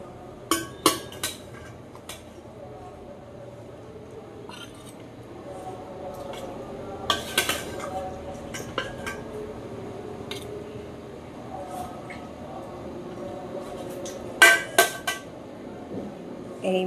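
Occasional clinks and taps of plates and utensils while meat curry is served into dishes in a home kitchen, with sharp isolated clatters spread across a quiet background.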